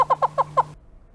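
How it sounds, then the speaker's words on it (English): Hornbill talk call used to wake dwarf mongooses at a termite mound: a quick series of five short, hollow clucking notes in a steady rhythm, close and moderately loud, then silence. "Hornbills will actually wake up the mongooses by sticking their beak in the ventilation shaft of the termite mound and giving a talk call."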